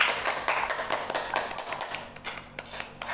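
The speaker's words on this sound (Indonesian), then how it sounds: "Tepuk tangan deh buat semuanya." A class of students claps for everyone in a classroom, a dense patter of hand claps that thins out toward the end.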